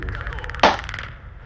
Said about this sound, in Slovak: Teraz budem počuť výstrel